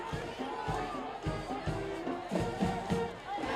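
Crowd noise at a packed high school football game between the Baldwin Bulldogs and Wellsville Eagles, a steady roar of chatter and cheering with thumps and bursts throughout.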